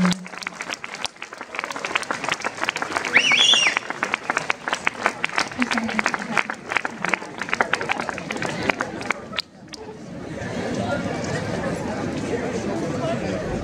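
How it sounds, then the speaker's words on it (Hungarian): Audience applause at a school graduation ceremony, sustained dense clapping from a large crowd for nearly ten seconds, then a softer crowd murmur as the clapping dies away. "Megérdemelnek egy nagy tapsot."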